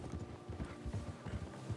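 A horse gallops in the video game Red Dead Redemption 2, giving a quiet, steady run of hoofbeats with a low background hum and no talk.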